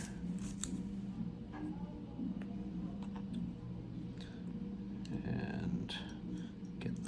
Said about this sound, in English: So peel off the plastic here.